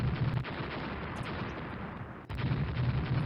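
Heavy naval gunfire and coastal battery fire rumble in the Rule the Waves naval war game, a dense continuous barrage of booms with a short pause near the middle before the roar resumes.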